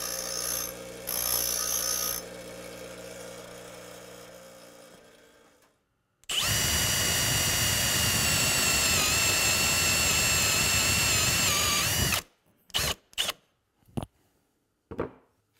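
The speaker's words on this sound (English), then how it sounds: "I'm back at the grinder" A bench grinder sharpening a drill bit whines with a steady, high-pitched grinding for several seconds, preceded by a lower motor hum and followed by short intermittent bursts.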